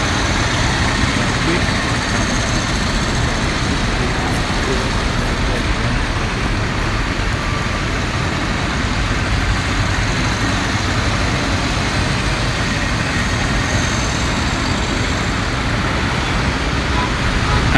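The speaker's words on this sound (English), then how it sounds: "Another means of transport that we always use is this three-wheeler vehicle." Dense, steady street traffic in Mombasa with a three-wheeler auto rickshaw engine rumbling among cars and buses, a loud continuous roar with no breaks, and someone speaking over it.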